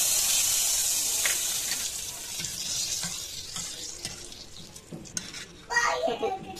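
Mustard seeds and dried chilies crackling in hot ghee in a pan, a steady bright sizzle with scattered pops, growing busier and louder near the end.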